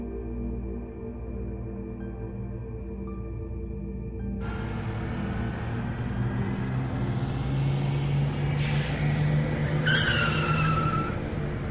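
A bus pulls up at a roadside stop on the route to Shimla, its engine rumbling low and steady as the vehicle approaches, followed by a couple of sharp brake squeals as it comes to a halt.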